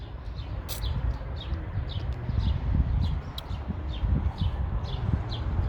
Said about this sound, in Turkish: Hava çok güzel. Kuş sesleri.